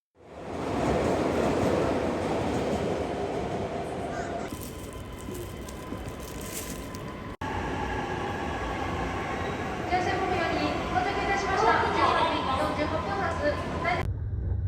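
A passenger train in Japan rumbles steadily from inside the car, with a continuous low roar and rattle, a few abrupt breaks, and faint voices in the background.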